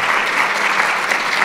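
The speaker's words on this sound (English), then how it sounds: "Maybe one more round of applause" Applause from the audience at a COTAD chapter gathering, steady and dense with many hands clapping, filling the whole short stretch at an even level.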